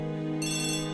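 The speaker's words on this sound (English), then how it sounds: "Oh, the phone call." A telephone rings with a steady, sustained electronic tone that brightens partway through, continuous and close for about a second.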